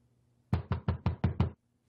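Six firm knocks on a door in quick, even succession, close and loud against near silence.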